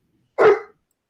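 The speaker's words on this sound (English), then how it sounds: "Even the dog hates it." A single sharp dog bark rings out once, loud and close, in otherwise near silence.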